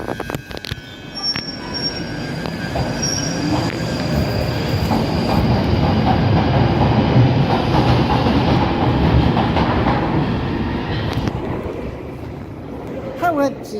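London Underground Northern Line train running near Charing Cross, a loud continuous rumble of wheels on rail with screeching squeals and clattering, heard from the front carriage, swelling midway and holding steady.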